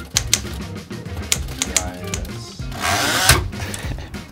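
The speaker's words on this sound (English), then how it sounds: "Pretty sure I'm ruining this typewriter." An old mechanical typewriter worked clumsily: sharp, uneven clacks of struck keys at irregular intervals, then a longer rattling, grinding stretch from the mechanism, all close and fairly loud with no talking.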